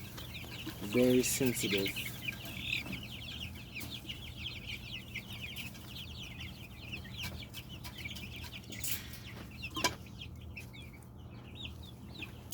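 A turkey on a farm gives a short burst of clucking calls near the start, then quieter scattered calls over steady outdoor background, with someone talking throughout.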